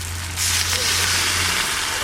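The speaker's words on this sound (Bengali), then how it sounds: "এবার জল দিয়ে দেবো।" Water poured into a hot pan while cooking prawn curry, bursting into a loud, steady hiss and sizzle that runs for about two seconds over a low steady hum.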